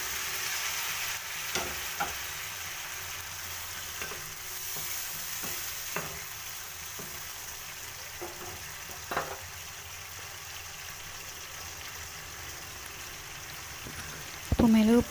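Boiled mutton sizzles and fries in a pan for mutton chukka while a spoon stirs it with repeated scraping strokes; the steady frying hiss runs throughout, ending in a louder clatter.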